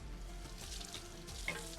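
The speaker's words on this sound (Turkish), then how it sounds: "kaşarımızı koyup şöyle birazcık kızartıyoruz" Bread topped with kaşar cheese frying in a pan, a quiet continuous sizzle with a faint brief clink near the end.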